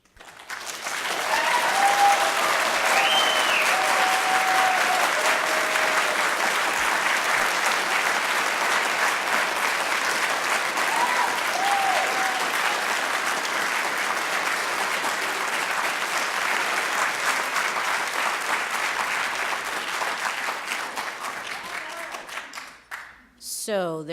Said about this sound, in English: if you do an applause like that for every time they speak, we might be here a while